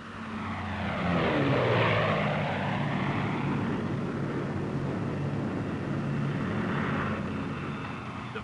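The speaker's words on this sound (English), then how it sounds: "Plane gains speed extremely fast in a dive." A P-51 Mustang propeller fighter diving, its engine and prop roaring loud and steady with a sweeping pitch shift as it gains speed, holding at 3,000 RPM, heard alone without voices.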